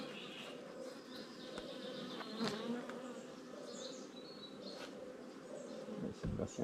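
Honeybees buzz steadily at an open hive while a marked queen is introduced, a dense close swarm hum that stays even throughout with small shifts in pitch and no talk over it.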